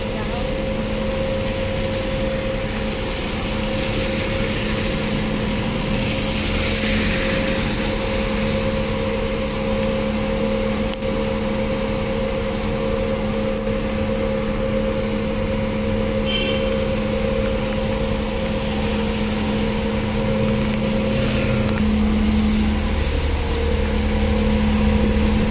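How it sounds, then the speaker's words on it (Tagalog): A pressure washer blasts dirt and dust off walls and wall sides at Manila Zoo, a steady loud motor hum with a constant tone running throughout, under intermittent talk. "Makikita natin talagang binobomba pati yung side ng pader para yan, mas matanggal yung dumi, alikabok."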